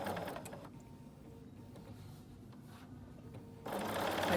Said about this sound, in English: I'm going to go to my machine with my 1/4 inch, with my 1/4 inch seam.